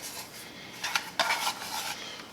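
Sliced small white Vidalia onion sautéing in hot butter in a pan: a soft, steady sizzle with a few brief scraping stirs, close and quiet, no voices.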